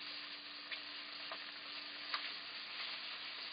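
Rabbit meat browning in a pan gives a steady, fairly quiet sizzle that crackles on without a break, with a few small pops and no voices.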